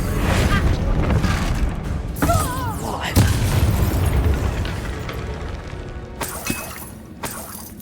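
Loud shattering explosions from spells cast in the video game Hogwarts Legacy erupt in quick succession, with crashing debris and whooshing bursts and a dense roar that tails off toward the end.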